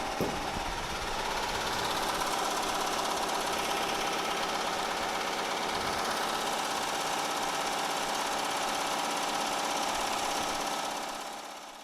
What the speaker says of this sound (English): We're almost done with sewing.